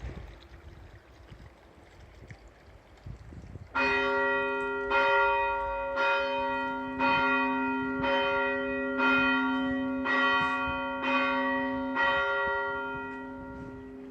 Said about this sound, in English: You're lucky to actually hear the bell too.